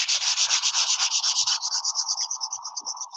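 A wooden dragon carving gets sanded by hand with 220 grit sandpaper. Rapid, rhythmic rasping strokes come close up, about a dozen quick back-and-forth rubs that slow slightly and fade toward the end, with no voices.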